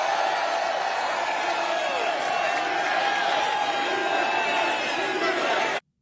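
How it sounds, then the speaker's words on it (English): A large crowd cheers and shouts at a Trump rally in the Bronx, a dense, continuous roar of many voices with scattered whoops, loud and sustained until it cuts off abruptly at the end. "Crowd goes wild,"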